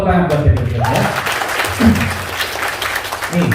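Audience applause at a talk about debt, a brief round of clapping from the crowd mixed with someone speaking loudly over it.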